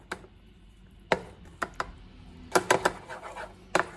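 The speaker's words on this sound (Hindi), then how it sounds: "और इसे अच्छे से मिक्स कर लेंगे।" A spoon mixing eggless pancake batter in a bowl, with irregular light clinks and taps against the bowl at close range, quiet between the strikes.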